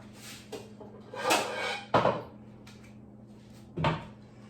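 A skillet holding a little oil is set down on a kitchen stove, giving a few short knocks and clatters of metal with a louder contact in the middle, over a low steady hum and no talk.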